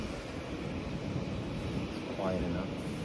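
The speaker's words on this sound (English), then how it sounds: "hear the ocean now." Ocean waves heard as a continuous soft wash of surf and wind noise, faint and steady, with a quiet voice briefly audible underneath.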